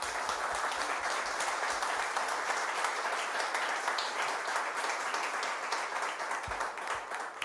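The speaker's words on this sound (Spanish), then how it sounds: "de nuevo les pido un aplauso a los invitados" Sustained audience applause for guest speakers at a marketing event, a dense, even wash of many hands clapping throughout without talking.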